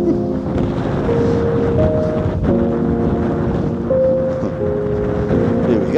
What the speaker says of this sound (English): It is a bit breezy, I must say.